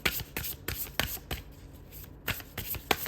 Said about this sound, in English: I've had to shuffle more than usual today